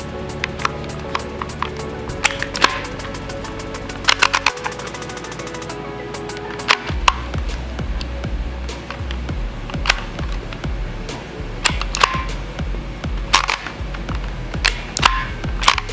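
Braille label maker embossing a name onto a tape strip, with repeated sharp mechanical clicks and clacks in an irregular run. The clicks come in bursts over a steady low hum, close and fairly loud.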